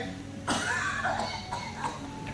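A single sharp cough bursts out near the start, followed by muffled speech-like sounds and a couple of smaller throat noises.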